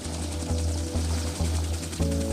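An AH-1W attack helicopter hovering nearby, its rotor producing a loud, deep, pulsing thump with a steady low drone and regular blade beats, no speech.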